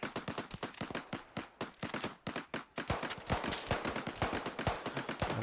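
Automatic rifle fire in Arma 3 comes in quick bursts of sharp cracks, first in short spaced strings, then a denser, louder run of shots, with no talking.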